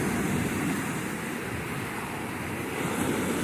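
Ocean waves come ashore at night, a continuous hiss and wash of surf with some wind rumble, fairly close and steady, with no voices.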